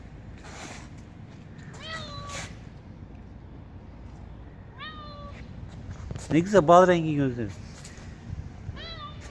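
A street cat meows several times up close, with short rising and falling cries and one longer, louder wail, while someone talks nearby.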